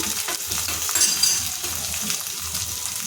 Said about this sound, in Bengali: একটু ভেজে নেওয়ার পর আমি এবার দিয়ে দিচ্ছি টমেটো কুচি